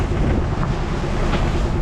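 Strong wind gusts of about 30 knots buffet a solo sailboat under jib at sea, heading against the current. A loud, continuous rushing roar pounds the microphone, with water noise mixed in and no talking.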